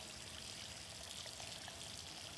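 In the Riven 2024 remake, water drains away in a soft continuous trickling stream, faint and steady with no voices over it.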